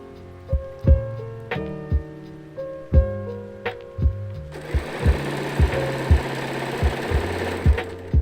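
Sewing machine stitching embroidery on cloth at a slow pace, its needle thumping in an irregular rhythm of distinct knocks before settling into a steadier, denser run of stitches with a whirring motor underneath.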